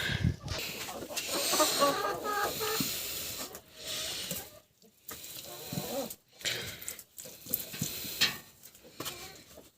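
Chickens cluck and squawk close by in bursts with brief pauses, along with scratching and rustling in a farmyard.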